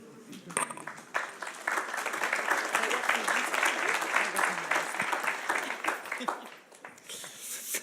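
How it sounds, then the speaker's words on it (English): An audience at a policy conference plenary session breaks into applause, a dense burst of clapping that swells, holds for several seconds and then thins out, with scattered voices mixed in. "If you buy it, we give you applause."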